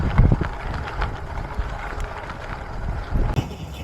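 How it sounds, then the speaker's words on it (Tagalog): Rough wind buffeting the microphone of a cyclist on a gravel race course in Talavera, Nueva Ecija, gusting loud and close with crunchy rumble beneath. "Tapos hangin pa din."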